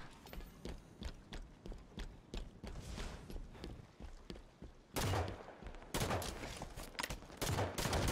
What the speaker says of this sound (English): I think this is actually a battle rifle.